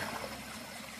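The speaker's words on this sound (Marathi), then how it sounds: "छान असं झरा वाहतोय." A mountain stream flows in a steady, soft rush of water, heard faintly and briefly in a rainy hillside setting with no voices.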